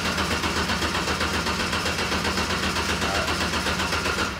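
An engine being cranked over without firing to build oil pressure, a continuous rhythmic churning with steady pulsing cycles, loud and close.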